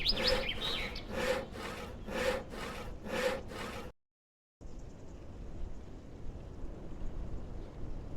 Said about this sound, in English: These men are cutting this log in two.